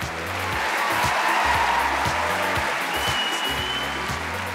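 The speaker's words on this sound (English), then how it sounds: "Give them a round of applause." An audience at a Britain's Got Talent audition applauds steadily, a broad wash of clapping that swells slightly in the middle and holds at a moderate level, with some faint low tones beneath.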